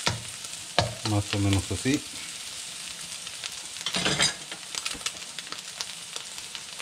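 Two beaten eggs hitting a hot pan for pork fried rice, sizzling and crackling loudly with stirring scrapes, surging again midway; a person speaks briefly near the start over the frying.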